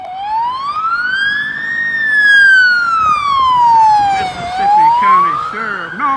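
Charleston Police Department siren, a loud, slow wail that climbs, falls and climbs again as the vehicle passes nearby, with a faint voice and a brief whooping warble near the end.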